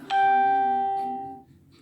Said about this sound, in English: There's that bell again.